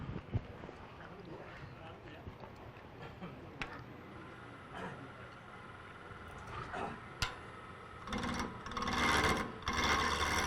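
A wood lathe turns hard hickory, and the tool gives a steady scraping, rasping sound against the spinning wood. The cutting grows louder and coarser toward the end.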